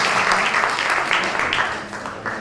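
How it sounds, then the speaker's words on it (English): Audience clapping at a Caribbean leadership breakfast and recognition ceremony in Nassau County, a steady burst of many hands lasting a couple of seconds. "You can clap at me."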